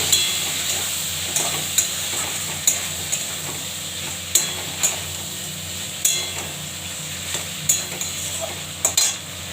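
Spices with cumin powder and turmeric fry in fish oil for a fish-oil chorchori, giving a continuous sizzle marked by a regular series of sharp spatula knocks against the pan, close and unvoiced.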